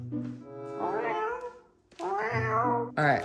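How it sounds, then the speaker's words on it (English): A cat meows close to the microphone indoors: two long, drawn-out meows and the start of a third, each loud and wavering. "Oh my god, we got a cat today."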